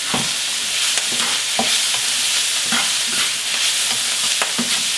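Garlic sizzling in a pan with roasted kimchi as it is stirred, a loud steady sizzle broken by regular scraping strokes of the spatula.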